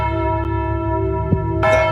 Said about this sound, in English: They're just ringing out the church bells.